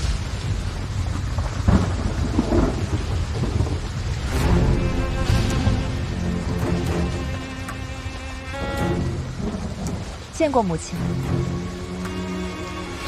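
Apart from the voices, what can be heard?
heavy rain with thunder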